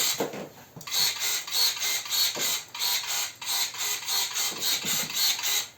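A SHIDOKU electric pruner, converted from two-contact to three-contact wiring, runs in repeated short whirring mechanical bursts with a steady rhythm, close and fairly loud, with no voices.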